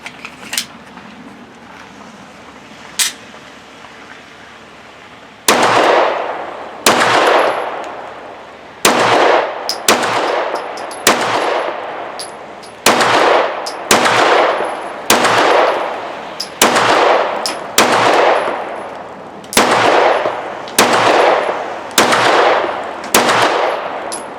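A Ruger RXM 9mm pistol fires a full magazine: after a few faint sounds, about fifteen sharp, loud reports ring out close by in a steady rhythm, each with a brief echo, with no talking.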